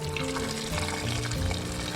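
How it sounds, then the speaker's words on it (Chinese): Boiling water pours steadily into a stew pot holding cut pig small intestine and ginger slices, a loud, continuous gushing splash filling the whole short moment. "直接加入到炖锅里面，加入姜片，倒入开水"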